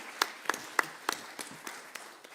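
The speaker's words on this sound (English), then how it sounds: "Just give him a clap." A small audience at a panel discussion on health systems and the environment claps in a sparse, uneven patter of a few hands, fading out after a couple of seconds.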